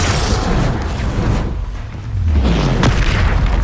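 Confringo blasting spell explosions in the video game Hogwarts Legacy, loud booming blasts with deep rumbling low end, several hits in quick succession over continuous battle noise, close and forceful.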